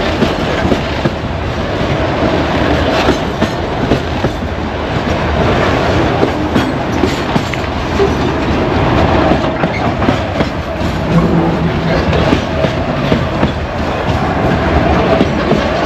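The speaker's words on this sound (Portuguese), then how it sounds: "Aí vem a cauda do trem, ó." A long freight train hauling clinker wagons rolls steadily past close by, loud continuous rumble with rhythmic clickety-clack of wheels over rail joints and occasional faint metallic squeal, no voices.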